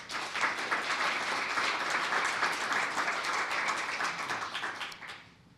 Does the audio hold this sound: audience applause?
yes